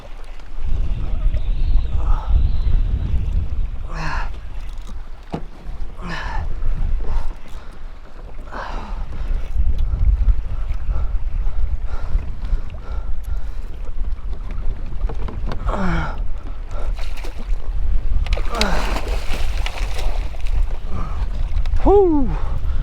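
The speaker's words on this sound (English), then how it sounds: "it is very, very windy today" Strong wind buffets a kayak at a beach during a fishing trip, a steady low roar and rumble against the microphone throughout, with water splashing and scattered shouts from a person on board.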